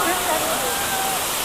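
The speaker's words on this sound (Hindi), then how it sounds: "देख लीजिए पहाड़ पे से बारिश का पानी है, देख लीजिए नहा रहा है।" Rainwater rushes and splashes down a mountainside in a steady, dense roar, like a torrent pouring down a slope, with no pauses.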